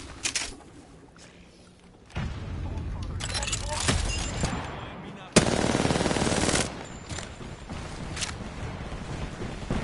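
Automatic gunfire in the Apex Legends battle royale game rattles in loud sustained bursts, with several sharp single cracks between volleys and a dense crackling barrage midway, over game noise.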